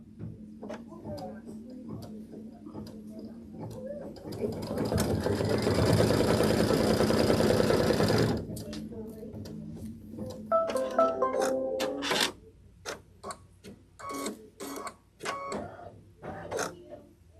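A long-arm quilting machine stitches a placement line on a Flag House quilt block, a steady mechanical whir for several seconds, then stops and gives way to short bursts of stitching and scattered ticks.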